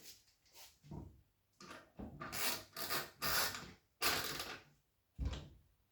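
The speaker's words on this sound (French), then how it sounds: "avec le tournevis, vous faites un quart de tour à l'intérieur pour serrer" Quiet rasping turns of a screwdriver tightening a fitting inside a wheeled kitchen trolley during assembly, a series of short scraping strokes separated by brief pauses, close and alone.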